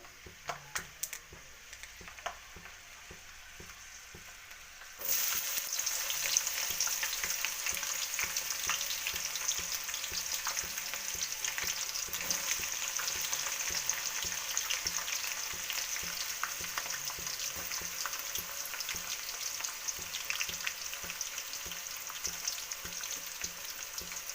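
Chopped onions sizzle steadily in a hot pan on the stove, with the frying jumping louder after a quiet start and scattered stirring scrapes throughout, no voices over it.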